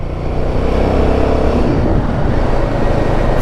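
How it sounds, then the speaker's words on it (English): Heavy road traffic rolls past nearby, a loud and continuous rush of car engines and tyres that never drops away. "Far too much traffic."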